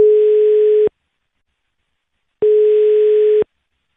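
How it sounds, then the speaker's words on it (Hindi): Telephone tone on an outgoing call to Dubai: two long steady beeps about a second each, separated by a pause of silence, loud and clear with no voices. "दुबई फोन लगाओ"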